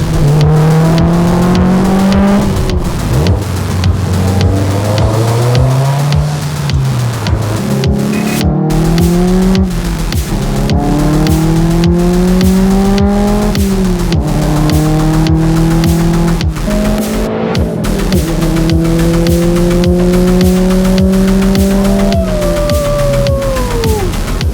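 A 2015-or-later Subaru WRX STI fitted with equal length headers revs hard through repeated rising pulls, its loud, close engine note climbing and dropping in a steady rhythm of gear changes with no talk.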